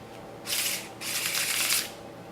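Two quick riffle bursts of playing cards being bridge-shuffled, a crisp fluttering whir each lasting about half a second, close by.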